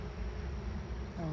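Honey bees swarm around an opened hive during a frame inspection, giving a close, steady, dense buzzing drone.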